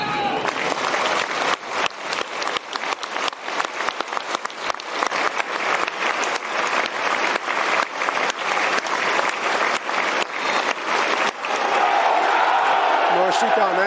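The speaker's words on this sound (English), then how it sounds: "A minute's applause for Jules Cohen, one of the 1966 World Cup winners." A football crowd at a Millwall home match against Rotherham United gives a minute's applause, sustained dense clapping from a packed stadium with scattered shouts, steady and loud throughout until it gives way to crowd murmur.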